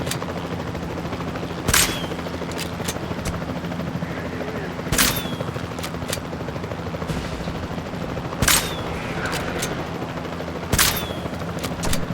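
Tranquilizer gunfire in the dinosaur park game Jurassic World Evolution 2, four sharp isolated shots spaced a few seconds apart over a low steady background hum.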